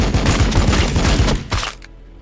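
A Warhammer 40,000 Battlesector squad opens fire in a dense, loud burst of rapid overlapping gunshots that rolls on for a couple of seconds, then cuts off into sudden silence.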